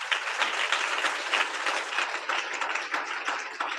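A congregation at a Hindi-language church service claps together for a few seconds, a dense, steady patter of many hands filling the room with no talking.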